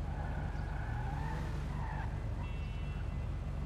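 A car skids through near-empty city streets in GTA V, a steady tire squeal over a low engine drone, loud and close throughout.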